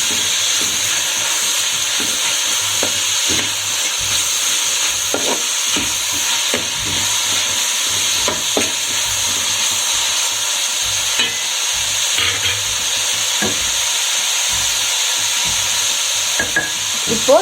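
Onions sauté in a pan for mushroom biryani, a loud continuous frying hiss with light intermittent stirring scrapes throughout, no one speaking.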